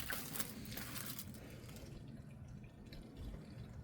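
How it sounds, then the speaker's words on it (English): Cleaning solution squirting and trickling into the ink system of an HP OfficeJet Pro 8600 Plus printer, a steady wet hiss and dribble that is loudest at first and then thins out. "Now I'm going to injecting some cleaning solutions"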